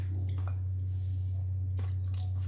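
Gram flour batter for dosa is mixed with water by hand, giving soft, scattered wet squelches and sticky squishes over a constant low electrical hum.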